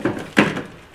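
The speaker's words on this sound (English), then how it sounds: "slide that whole door pocket out." A short plastic scrape and knock as a car door pocket trim panel slides out, close and fairly soft, two quick bursts within a second.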